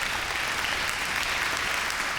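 Audience applause at a women's honours ceremony, a dense, even wash of clapping from many hands throughout, moderately loud and unbroken, with no talk over it.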